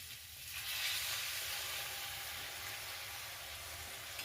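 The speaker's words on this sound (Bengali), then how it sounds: "মিডিয়াম টু লো ফ্লেমে আর একটু ভাজার জন্য বসিয়ে রেখে দিলাম মশলাটা খুব সুন্দর করে ভাজা হয়ে গেছে" Spice masala frying in a pan on a medium-low flame for a small-fish curry: a quiet, steady hiss of sizzling that swells slightly early on and holds evenly, with no stirring strokes or talking.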